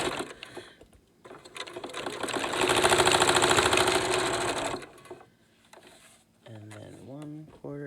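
A sewing machine stitches around the edge of a pleated fabric face mask in a fast, rhythmic run lasting a few seconds, with someone talking before and after.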